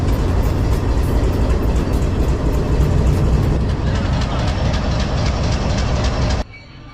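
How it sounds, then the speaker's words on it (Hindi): A 12 Down Hazara Express train pulls out of Havelian railway station with a loud, steady rumble of wheels and rolling stock close by. Clickety-clack runs throughout before the sound suddenly drops off near the end. "12 डाउन हज़ारा एक्सप्रेस सिस्टम निकल चुकी है हवेलियाँ रेलवे स्टेशन से"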